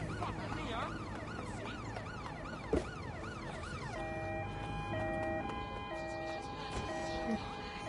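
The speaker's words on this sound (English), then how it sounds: "Using sirens to fake that I'm a cop." Police siren in the Watch Dogs video game, a loud wailing tone sweeping up and down, then switching to a steady alternating two-tone pattern, with game background noise underneath.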